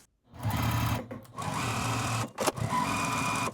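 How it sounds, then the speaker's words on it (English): A sewing machine stitches pieces of a quilt-as-you-go star tree topper, whirring steadily up close in two long runs separated by brief stops. "I'm going to sew along this."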